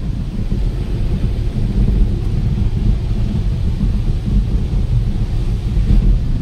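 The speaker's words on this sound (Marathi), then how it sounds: "भयंकर पाऊस लागलाय, भयंकर." Heavy rain pours down on a car driving through a severe storm, a dense continuous roar with deep rumbling underneath and no voices.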